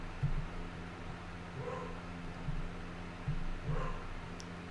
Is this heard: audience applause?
no